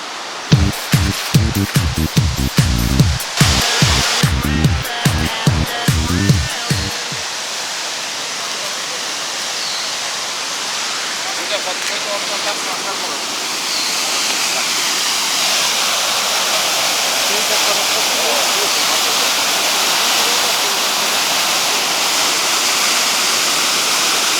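Rhythmic footsteps or thumps at first, then a steady, rushing roar of a waterfall in Chichkan, Kyrgyzstan, that fills the rest, constant and broad.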